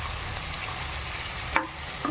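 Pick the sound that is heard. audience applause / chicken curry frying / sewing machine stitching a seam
chicken curry frying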